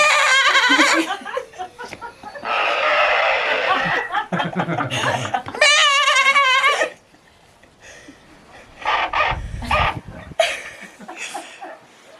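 A person mimics a goat's bleat with a series of loud, wavering vocal bleats, mixed with chuckling and laughter from people nearby, trailing off into quieter talk and background noise.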